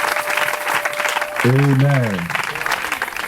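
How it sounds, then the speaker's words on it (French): A church congregation applauding loudly and steadily during a prayer service, with a sung or called-out voice over the clapping. "Est-ce que tu peux acclamer très bien, très fort pour le Seigneur?"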